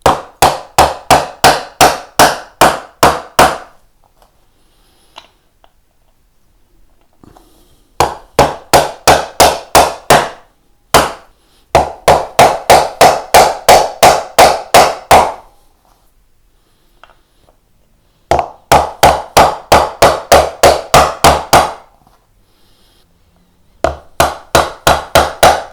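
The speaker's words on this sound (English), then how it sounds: "So we'll start with the bushings, and hopefully they're not going to be too tight. Might need a little bit of a tap." Sharp hammer taps drive tuner bushings into a Telecaster guitar headstock, coming in close, loud bursts of rapid, evenly spaced strikes separated by short pauses.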